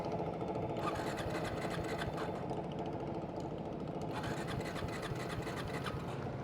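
Triumph Speed 400 motorcycle, a 400 cc bike, cranks on its electric self-starter in a continuous, dense mechanical whirring and chatter that holds steady throughout at close range.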